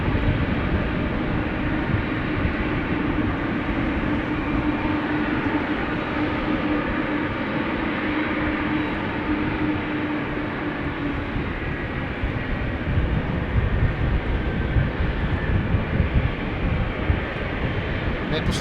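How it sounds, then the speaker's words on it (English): An EasyJet Airbus A319 bound for Naples at rainy Amsterdam Schiphol gives off a steady, broad engine roar that holds for the whole stretch, with wet ambience around it and voices talking over it. "there's an airplane A319 to Naples, EasyJet"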